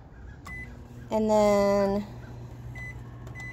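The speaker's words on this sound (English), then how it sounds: "So I've got the microwave now set for 10 minutes." A microwave oven used as a raku kiln sounds one long, loud keypad beep of nearly a second while its timer is set, with brief clicks and faint talk around it.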